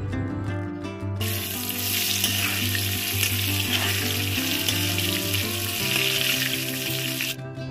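Potatoes seasoned with turmeric and salt fry in oil left over from frying rohu fish, giving a loud, continuous close sizzle that surges in after a second and holds steady, with no talk.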